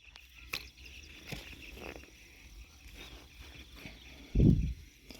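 A faint, steady insect-like chirping buzz, an insect lure call, plays at full volume from a small horn loudspeaker, with a soft rustle and a brief low thump near the end.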